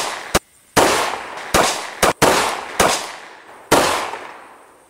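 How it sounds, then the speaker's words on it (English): Five .45 ACP pistol shots fired at an armor plate with 230 grain full metal jacket rounds, sharp loud cracks spaced irregularly about a second apart, each with a short ringing tail outdoors. "we're going to shoot the same plate, 5 rounds with a HPR 230 grain full metal jacket"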